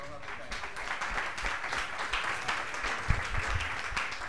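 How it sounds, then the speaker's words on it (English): An audience at a campus forum gives the lecturer a round of applause, a moderately quiet, sustained patter of many hands clapping, with voices talking faintly beneath it. "Another round of applause for our lecturer."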